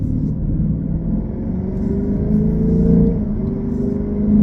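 A Lexus IS500 with an Apex'i N1 Extreme exhaust accelerates in sport plus mode, a deep, steady engine rumble heard from inside the car, rising gradually in pitch and volume.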